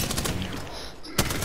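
Rapid, continuous Spitfire gunfire in a video game, a dense rattling burst filling the whole moment with a sharper crack near the end, fairly loud and steady.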